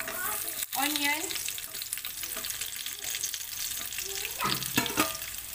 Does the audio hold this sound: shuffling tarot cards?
no